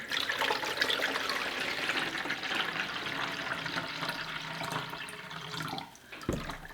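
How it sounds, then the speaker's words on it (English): Filtered water pours steadily into a container for starting celery seeds, with a full, rushing splash that eases off near the end, followed by a brief knock. "put in my water"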